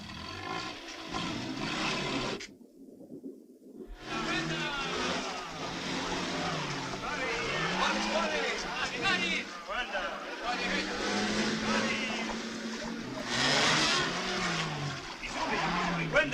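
A car engine revs and strains in low gear while pulling a hooked-up load out of slimy ground, rising and falling through a brief lull, with people talking over it.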